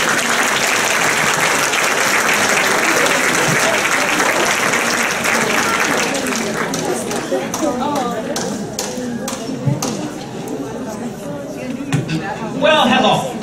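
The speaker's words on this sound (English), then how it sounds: "Would you give them a big hand of applause and welcome?" Audience applause at a women's association style show, a dense sustained round of clapping from a large indoor crowd that gradually thins into scattered claps, with people talking underneath.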